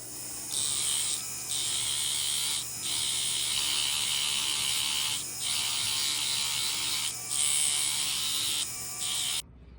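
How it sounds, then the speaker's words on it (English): A rotary tool spins a sandpaper disc against a metal ring being made into a bar pendant, a high, buzzing grind held in several bursts separated by brief pauses, close and steady. "We're going to be using the sandpaper disc to remove the file marks and any other spots along the piece."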